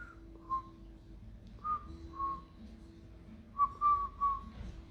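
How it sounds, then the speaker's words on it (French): A person whistles a halting, slightly off-key tune in short separate phrases with pauses between them, close and fairly quiet, with no talking. "Je siffle même mal, c'est terrible."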